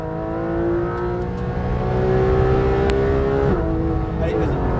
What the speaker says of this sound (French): commence à reprendre les gaz, c'est parti.